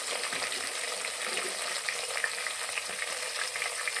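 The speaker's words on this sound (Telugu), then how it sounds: "ఇవి ఇప్పుడు ఫ్రై అయిపోయినాయండి." Capsicum (shimla mirchi) frying in a pan for a masala curry, a steady close sizzle with faint stirring scrapes throughout.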